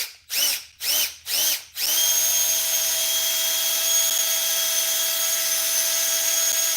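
A power drill revs in four short bursts, then runs in one long, steady high-pitched whine, loud and close.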